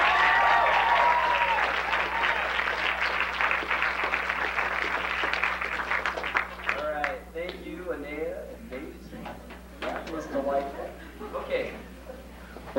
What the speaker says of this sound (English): Let's give him one more good round of applause.